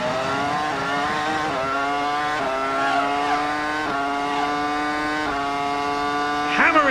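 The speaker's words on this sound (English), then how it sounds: "Let's have a listen to this BMW engine" A BMW-engined Formula 1 car at full speed during the 2002 Canadian Grand Prix at Circuit Gilles Villeneuve, a loud continuous high-pitched engine howl climbing in pitch and dropping with each of several quick upshifts.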